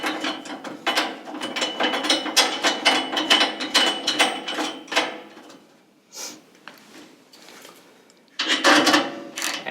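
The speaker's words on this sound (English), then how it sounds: "9/16 socket with a ratchet. I'll just tighten a little bit on each side at a time" A ratchet with a 9/16 socket tightens U-bolt nuts on a Weil-McLain SlimFit boiler, giving quick runs of close clicking, then a pause and another short burst.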